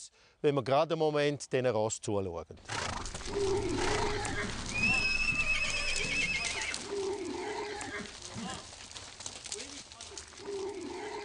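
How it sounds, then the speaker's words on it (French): A group of horses kept together, with a run of loud whinnies and neighs up close at first, then a busier mix of quieter snorts, shuffling and animal sounds. "Observons quelques instants les chevaux."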